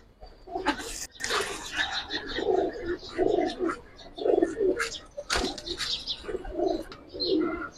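Giribaz and colour pigeons cooing in a loft, repeated low throaty coos from several birds close by, with wingbeats and rustling between them.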